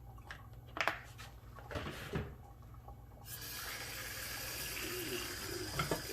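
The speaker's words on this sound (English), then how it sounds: "And wash off the meat." Tap water running and splashing over raw oxtail meat being rinsed after a vinegar soak, a steady close wash of water with handling clatter in the first seconds, then a continuous strong flow.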